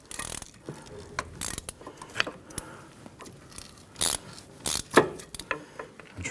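Tools turn and pry at stuck, lubricated bolts on the rear brake backing plate of a 1999-2004 Jeep Grand Cherokee, producing irregular metallic clicks, ratcheting and scraping in uneven bursts close to the listener.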